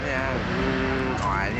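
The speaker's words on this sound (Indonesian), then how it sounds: "Bunyi motornya," A motorbike engine in the mobile battle royale game PUBG Mobile drones steadily and loudly throughout, a continuous revving hum with slight pitch shifts.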